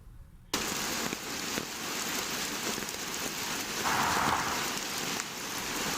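Heavy rain pours down in Idukki as a steady, dense hiss of drops on surfaces, loud and unbroken throughout with no voices.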